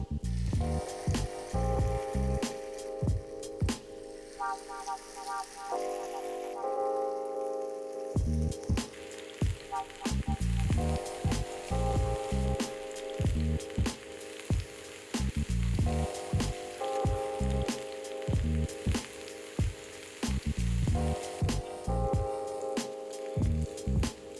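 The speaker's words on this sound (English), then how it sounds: "The pan is hot now, let's start grilling." Mutton chops grill in a hot oiled pan with a loud, steady sizzle and crackle, broken by repeated sharp clattering strikes and scraping, no voices present.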